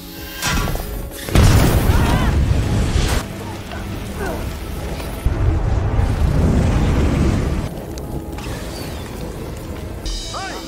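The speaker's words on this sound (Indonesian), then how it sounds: "terjadi ledakan karena tabung gas yang sengaja dilempar" A thrown gas cylinder explodes in an action film fight scene, giving loud booming blasts with crashing debris and sustained rumbling, layered with dramatic soundtrack and effects.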